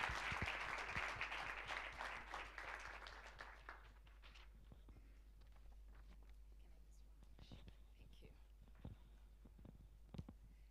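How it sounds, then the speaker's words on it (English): An audience at a CEO summit applauds as a keynote speaker is welcomed onto the stage, a burst of clapping that fades after a few seconds into scattered claps, shuffling and low murmurs over a steady hum. "If you can all please give a round of applause and welcome to the stage Ms. Namhla Mniki"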